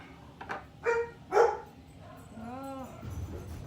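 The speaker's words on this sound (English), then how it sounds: "Maybe the mailman's here, the dogs are barking" Dogs barking in short sharp bursts a short way off, a few separate barks followed by a rising whine, with quiet room sound between them.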